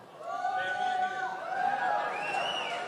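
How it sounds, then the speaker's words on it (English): A small crowd gives a thin, half-hearted cheer at a bass fishing tournament weigh-in at Lake Okeechobee, a few voices whooping and chattering over about three seconds, fairly close and modest in volume. "That's not a very loud cheer."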